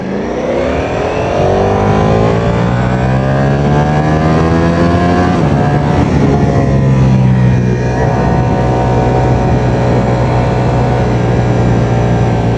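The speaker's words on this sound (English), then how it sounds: "Riding with this view, this monster Streetfighter V4." Ducati Streetfighter V4 motorcycle engine roaring steadily while riding on a road with corners, loud and close with rising and falling revs throughout and a continuous rushing drone.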